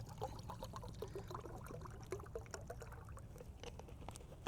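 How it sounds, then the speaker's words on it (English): Water pours into a titanium pot set on a small wood-burning camp stove, a steady faint trickling and splashing that runs throughout with no talking. "I am going to go ahead and put my water into my pot."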